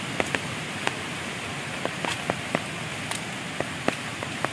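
Light rain falls outdoors on a rural path, a soft steady hiss with scattered individual drops tapping nearby, fairly quiet and with no voices.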